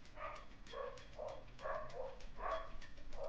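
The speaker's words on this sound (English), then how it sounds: "All the dogs are barking" Several dogs bark in repeated bursts at moderate distance, overlapping one another with short pauses between volleys.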